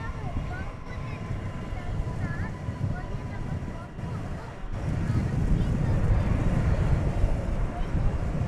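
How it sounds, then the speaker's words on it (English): Gusty evening wind at DFW Airport makes a low, rumbling roar that buffets the microphone and grows stronger halfway through, with a faint background hum. "Gusty evening here."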